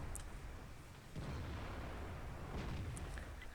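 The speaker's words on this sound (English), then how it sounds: "ST1 does manage to pen a shot" A tank cannon shot in World of Tanks lands as a dull, low boom about a second in, followed by a rumbling wash of battle noise at moderate loudness with no voices.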